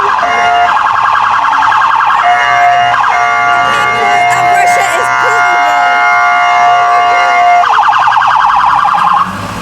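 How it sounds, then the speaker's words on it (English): A police car siren passing during a street protest, loud wailing and yelping tones cycling for several seconds, with a person speaking over it. "Police car coming through."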